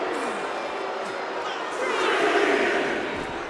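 A wrestling arena crowd roars and chants as a wrestler fires them up, a continuous dense rumble of many voices that swells in the second half, with a commentator's voice faintly mixed in.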